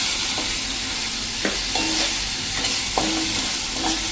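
Two chopped tomatoes frying in a hot pan for a moong dal and spinach dish, a steady dense sizzle throughout with occasional spoon scrapes and stirring knocks against the pan.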